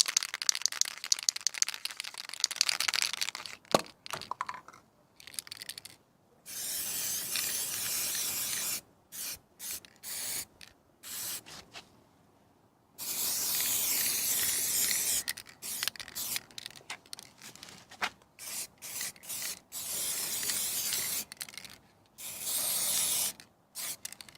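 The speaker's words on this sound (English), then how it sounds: "Get 3 sides with this auto spray." Repeated hissing bursts of an aerosol spray can, some short and some long, separated by pauses and a few can rattles.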